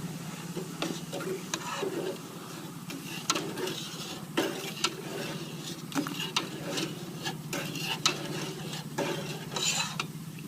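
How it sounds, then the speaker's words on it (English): Black RIT dye for RC10 car parts stirred with a small spoon in a container, giving repeated light metallic taps and swirling scrapes over a steady low hum, close and without talk. "I got my little spoon. I'm going to mix it up."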